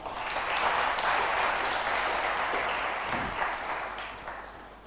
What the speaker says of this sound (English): So big clapping to them.